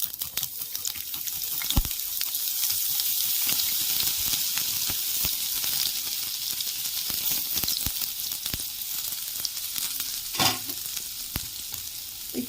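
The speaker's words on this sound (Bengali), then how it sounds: "তেলের মধ্যে দিয়ে দিচ্ছি 5 ফোড়ন, আর আমি আদা নিয়েছি একটু গ্রেট করে দিয়ে দিচ্ছি।" Panch phoron and grated ginger sizzling in hot oil, a steady bright crackle with occasional sharp pops and clinks from a utensil in the pan, close and continuous without any talking.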